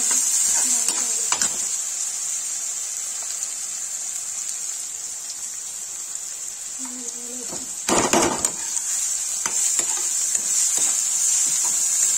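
Okra and potato curry is stirred in a hot pan, with a constant bright sizzle, scattered scrapes of the spoon and a louder stirring clatter near the end; a voice is briefly heard.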